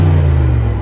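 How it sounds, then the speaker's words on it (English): Deep, steady rumble of a 2021 Mercedes-AMG GLE 63 V8 exhaust in its loudest mode, a brief sustained low drone held near the soft limiter, loud and close with no talk. "This is the exhaust in its loudest setting as well."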